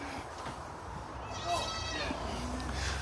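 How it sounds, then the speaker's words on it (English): Goats bleat in a farm pen, a wavering call near the middle over constant outdoor rumble and background noise. "it looks like there's a lot of goats in her pen"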